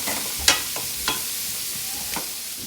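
Sliced bacon fries in a seasoned cast iron pan with a steady, dense sizzle, broken by a few sharp scraping clicks as it is stirred.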